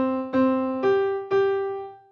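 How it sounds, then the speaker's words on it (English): Three clear melodic notes played one after another, each a sustained pitched tone with a sharp attack, stepping up for the opening of Twinkle Twinkle Little Star, moderately loud and alone with no talk. "And Twinkle Twinkle Little Star goes."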